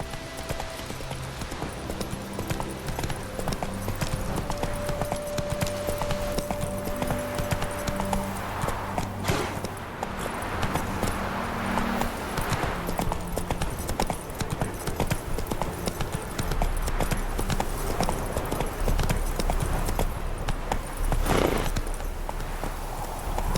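Roach, the horse in The Witcher 3, gallops with steady, loud hoofbeats that run for the whole stretch. Game music and ambience sit underneath, and there is a brief whinny-like sound.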